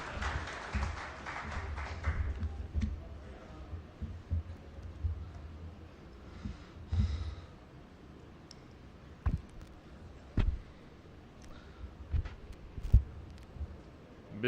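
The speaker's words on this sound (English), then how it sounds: "So, Mr. Faiz Ahmed, please give him a big round of applause." An audience claps for the chief guest at a mobile commerce conference hall. A dense burst of applause fills the first couple of seconds and then thins into scattered claps, taps and knocks in a quiet room.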